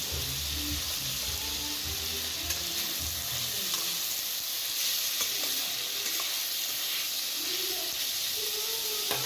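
Okra sizzles steadily in a hot pan while being stirred, a continuous close frying hiss with occasional scraping of the spoon against the pan, no voices.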